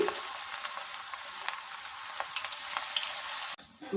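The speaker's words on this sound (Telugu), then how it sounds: "ఇప్పుడు ఆయిల్ వేసుకుని డీప్ ఫ్రై చేసుకుందాం వీటిని." Cauliflower pieces deep frying in hot oil in a wide pan, a dense, even crackling sizzle held close and loud throughout, briefly dipping near the end; no voices.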